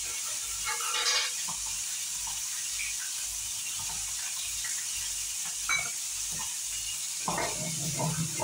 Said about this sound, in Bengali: মাছ ভাজা বসিয়ে দিয়েছি, এজন্য মাছ ভাজাতে একটু শব্দ হচ্ছে